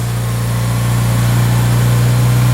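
A car engine in an Acura RSX idles loudly and steadily up close, a constant low drone with a raspy, hissing exhaust edge from an exhaust leak by the flex pipe, and no speech.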